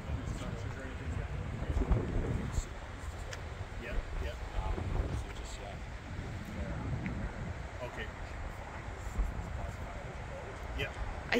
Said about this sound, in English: it is windy as heck